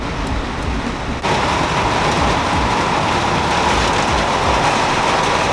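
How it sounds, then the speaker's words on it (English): Steady rain pours down at a motocross track, a dense even hiss that grows heavier after a moment and keeps going without pause. "and now it's raining."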